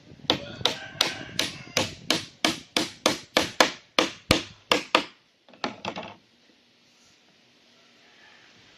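Steady rhythmic hammering, about fifteen sharp blows close up, then a brief pause, a few final strikes, and quiet.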